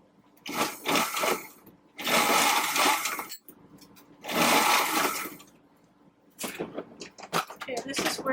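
A sewing machine stitches the pleats on a fabric face mask in three bursts of fast rattling whir separated by pauses, with lighter handling clicks and taps near the end.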